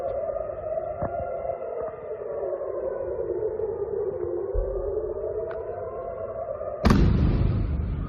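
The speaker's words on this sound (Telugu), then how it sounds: "దాడుల సమయంలో ఇజ్రాయెల్లో పౌరులను అప్రమత్తం చేస్తూ పలుమార్లు సైరన్లు మోగాయి" Civil defense air raid sirens sound in Israel during attacks, a steady wailing tone that slowly rises and falls for several seconds before a sudden loud burst of broadband noise near the end.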